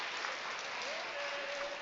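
A crowd applauding a climber at a lead and top rope climbing finals, steady dense clapping and cheering that fills the room, with a faint voice over it.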